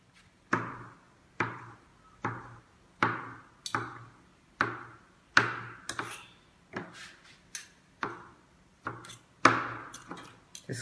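Knife chopping aloe vera gel into small cubes, a steady series of about a dozen sharp, close taps against a board, evenly spaced with no talking.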